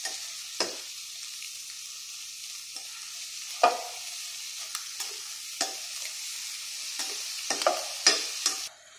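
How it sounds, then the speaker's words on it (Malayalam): A spoon stirs an egg and banana mixture in a bowl, giving soft scraping swirls punctuated by repeated light clinks and taps against the side, close and fairly quiet, with no talking. "ഇനി നമുക്കിത് ഇളക്കി കൊടുക്കാം."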